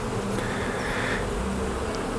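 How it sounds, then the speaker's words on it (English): Honey bees dumped on the ground in front of their hive make a dense, steady, close buzzing drone that holds evenly throughout with no voices. "This is what bees do after you dump them on the ground in front of a hive."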